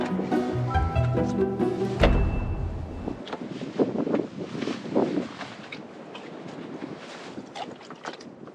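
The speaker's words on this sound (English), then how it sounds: "still windy, still cold" Strong wind gusts roar and buffet around a truck camper boondocking in the Badlands, a loud, broadband rush that swells and fades in waves after a brief burst of mixed sounds at the start.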